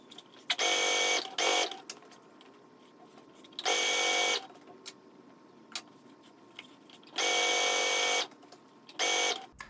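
A sewing machine runs in four separate bursts, stitching the waistband seam of a pencil skirt, each run steady and fairly close, with quiet pauses between them while the fabric is folded and repositioned.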